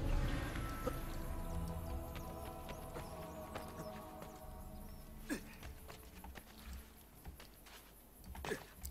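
Horse hooves clip-clop in Assassin's Creed: Brotherhood, faint and irregular under a busy game soundscape with background ambience and occasional sharper knocks. A player talks briefly.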